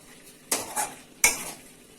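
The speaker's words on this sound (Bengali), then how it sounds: "এইভাবে মাংসটাকে আমরা কষতে থাকছি" Chicken kosha being stirred in a pan, a spoon scraping and knocking against the metal in two distinct bursts with a faint sizzle, close and alone.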